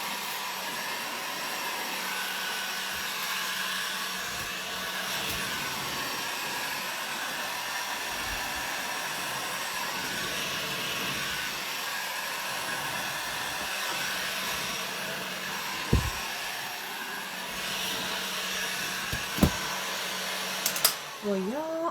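Hair dryer blowing on freshly stenciled paint, a loud, steady whooshing drone that runs unbroken for over twenty seconds, with a few brief knocks and clicks near the end.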